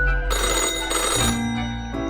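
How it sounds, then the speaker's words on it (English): An old-fashioned telephone in a video game rings with a loud metallic bell clatter, two close bursts of ringing followed by a fading tail, with no voices. "The old-fashioned phone suddenly rings with an ear-piercing metallic clatter."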